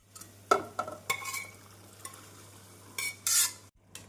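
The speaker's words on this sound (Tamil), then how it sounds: "கொண்டைக்கடலையை மசாலாவுடன் நன்றாக மிக்ஸ் செய்ய வேண்டும்" Boiled chickpeas being stirred into sizzling masala in a pan: scraping, clattering stirs in bursts, with a steady low hum underneath and a louder hiss near the end.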